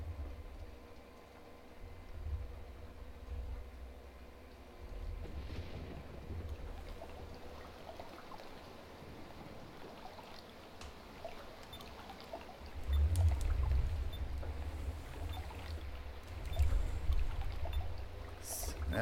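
A river flowing in the Farming Simulator 17 video game: continuous rushing water noise, fairly loud and steady, swelling louder near the end, with no speech over it.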